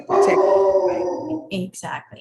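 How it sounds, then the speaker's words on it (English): A pet dog barks and howls loudly in the room, one long drawn-out yelp followed by a few shorter barks, with a person saying a word underneath. "I apologize for my dog, he's going crazy"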